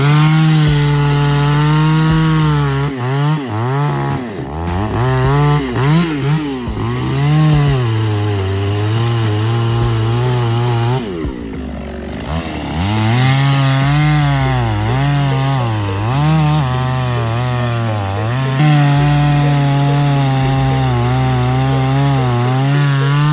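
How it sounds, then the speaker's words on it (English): A Makita EA6100P53G chainsaw cuts into tree wood, its engine loud and close, the pitch sagging and rising as the chain bites and frees, running without pause and without voices. "Precision meets innovation with the Makito EA6100P53G"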